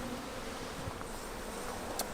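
Honey bees buzz steadily in an open hive while frames are shifted with a hive tool, a constant low drone close by with a brief sharper click near the end.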